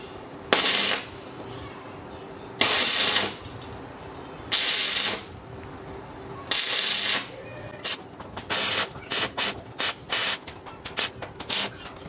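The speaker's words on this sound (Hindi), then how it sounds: "यहाँ पर हम अपनी वेल्डिंग को स्टार्ट करते हैं" A portable inverter arc welder runs an electrode on iron with loud crackling, buzzing bursts, four longer runs of about a second each, then a string of short rapid strikes. No voices.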